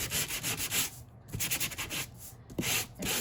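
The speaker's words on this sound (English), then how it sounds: "So I have a sanding block here" Sanding block rubbed over paper card, a series of short scratchy back-and-forth strokes in an uneven rhythm, close and fairly quiet, with no voices.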